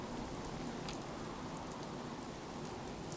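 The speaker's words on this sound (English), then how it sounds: "This is quite a storm we've got going." Heavy rainstorm in Fallout 4, a dense, steady downpour of rain hitting surfaces that fills the whole stretch at an even level, with no voices over it.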